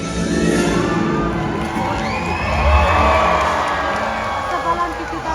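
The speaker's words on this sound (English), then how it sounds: "When you see him, give him a great big cheer" Stadium audience at a killer whale show at SeaWorld Orlando cheers and whoops loudly and steadily, the crowd roar swelling midway as the orca jumps and then holding.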